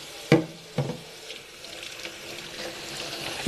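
Tap water running into a sink for washing dishes with hand soap, a soft low stream with a couple of sharper splashes or clatters near the start, fairly close and quiet.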